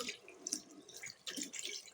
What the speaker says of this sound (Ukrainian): Тепер промиваємо раковину